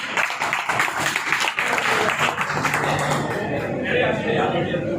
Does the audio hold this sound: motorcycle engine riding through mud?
no